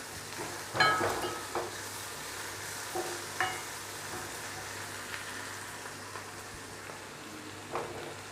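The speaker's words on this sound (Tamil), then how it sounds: "வெங்காயம் வதங்கும் போது" Onions sauté in a pan for karunai kizhangu masiyal, a faint, steady sizzle with a few louder scraping stirs and clinks spaced across the stretch.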